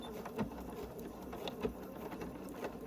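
A sewing machine runs a stitch or two while piecing a 1930s-style spool quilt block, giving a soft, quiet rhythmic patter of needle strokes with faint periodic clicks.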